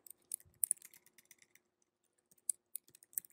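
Quick bursts of keystrokes on a computer keyboard, crisp and close, in an irregular rhythm with short pauses between flurries, with no voice over them.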